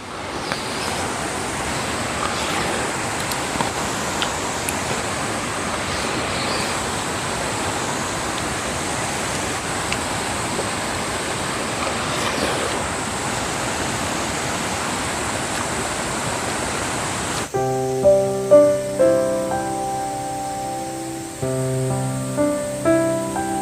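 A mountain valley stream flows past a campsite in Cheongdo's Unmunsa Valley, a steady, loud broadband rush of water that continues unbroken until music with plucked notes enters near the end.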